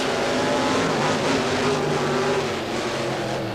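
Ford-bodied King Kong monster truck with a Chevrolet engine races on an arena dirt track, its engine a loud, steady roar held close and unbroken throughout.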